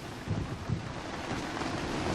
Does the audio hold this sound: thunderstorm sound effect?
yes